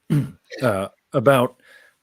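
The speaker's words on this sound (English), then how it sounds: "pardon me, clear my throat" A short, gruff throat clearing in two or three voiced bursts, close to the microphone, followed by a faint trailing exhale.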